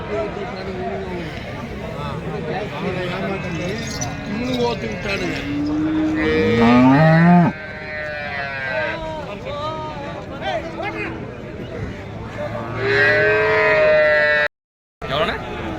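Murrah buffaloes low and moo at a busy cattle market in Tamil Nadu, several drawn-out calls rising above crowd chatter and people talking nearby.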